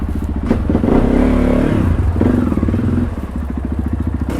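Supermoto motorcycle pulling away in winter, its single-cylinder engine thumping loud and close, revving up in bursts with a steady pulsing beat and brief dips between throttle blips.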